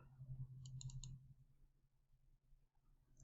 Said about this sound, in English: We double check it by quickly double left clicking